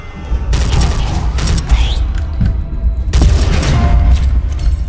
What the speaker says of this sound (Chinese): 完美轰炸！